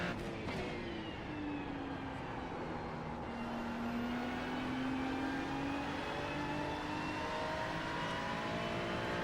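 A Ferrari 296 race car engine in a sim racing game drones and whines steadily, rising and falling in pitch with gear changes at a loud, continuous level, with no talking.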